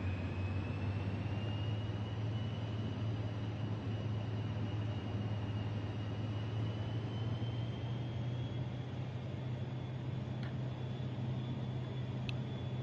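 A Vision Jet's engine in a flight simulator drones steadily and evenly throughout, a constant hum with a faint high whine above it and no speech.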